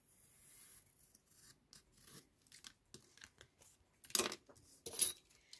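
Scissors snipping through packaging cardboard for an ephemera craft, a series of short, close cutting and rasping strokes that ends in two louder crisp snips.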